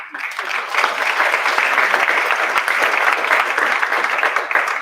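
An audience at a school district board meeting gives loud, steady applause for teachers being honored for 25 years of service, with dense clapping filling the room and no voices rising above it.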